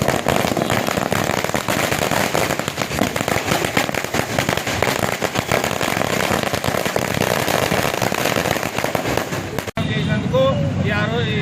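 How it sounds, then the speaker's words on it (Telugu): A long, dense barrage of firecrackers crackles and bursts continuously and loudly at a street political celebration, then stops abruptly, leaving voices talking briefly at the end. "ఈరోజు మేము ఎంపీగూరులో టపాకాయలు వారీతులు కాలుస్తున్నాము"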